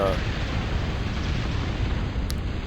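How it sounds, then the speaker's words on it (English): A 3v3 video game battle on the Extreme Corruption map produces a dense, continuous roar of explosions, a steady loud rumble with no pauses. "So many explosions on the screen, and so much chaos happening that it's hard to even keep up with"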